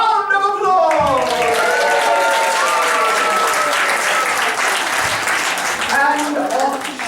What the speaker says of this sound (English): Olivia, you are gone with a hero's round of applause!